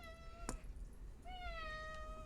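A cat meows twice nearby, first a short chirp and then a longer, drawn-out meow, over a faint low background hum.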